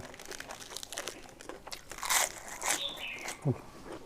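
Crisp raw vegetables crunched between bites of spicy fresh shrimp salad, giving several close, sharp bites and crackly crunches with soft rustling in a quiet setting.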